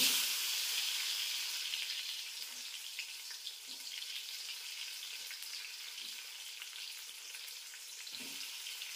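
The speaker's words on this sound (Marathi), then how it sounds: "आता हे थोडं तेलात फ्राय करून घेते." Garlic, onion and tomato fry in oil with a quiet, continuous hiss and sizzle, now and then broken by faint soft knocks of stirring.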